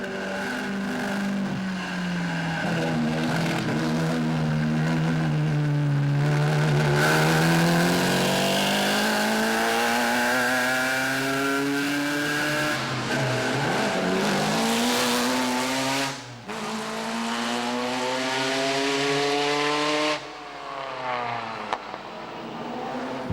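Trintignant's Bugatti 35C race car, original chassis 4941, climbs the Klausen hill, its engine loud and close, revving hard and rising in pitch through repeated gear changes, with brief drops between bursts.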